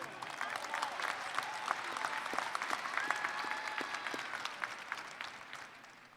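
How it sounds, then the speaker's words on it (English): A commencement audience applauds the faculty seated at the front, a steady, dense wash of clapping from a large crowd that holds for several seconds and then begins to thin toward the end. "please join me in honoring our world-class faculty here in the front with your applause"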